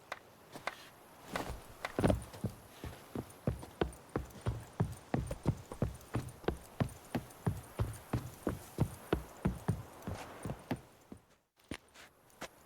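Hooves of the horse Roach clip-clop steadily in The Witcher 3, a regular trotting rhythm that stays close and clear over a faint ambient bed, then slows and stops near the end.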